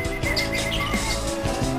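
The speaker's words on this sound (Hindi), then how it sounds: "बिरंगे और खूबसूरत पक्षियों की चहचहाहट से होती है" Pet parrots and other caged birds chirping and tweeting continuously, a dense chorus of bright calls close by, with no talking.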